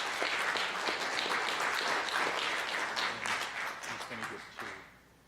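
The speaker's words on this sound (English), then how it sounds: "Let's give him another round of applause." Audience at a Princeton special council meeting breaks into sustained applause, steady and dense, with faint voices mixed in, then tapering off over the last second.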